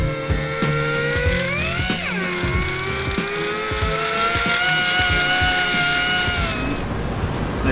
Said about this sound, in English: All the cutting or grinding should be done at a medium grinder speed